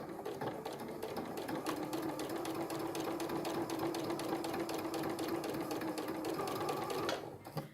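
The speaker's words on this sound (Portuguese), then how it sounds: "E vou fazer a primeira costura no risco." Sewing machine stitching a line through quilted fabric for a Christmas project, a steady fast mechanical whir with a constant tone running unbroken for about seven seconds before stopping, close and alone with no talk.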